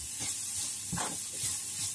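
Finely chopped vegetarian shrimp topping stir-fried in a pan, a soft continuous sizzle with a few scraping stirs of the spatula, close and moderate in level, without voices.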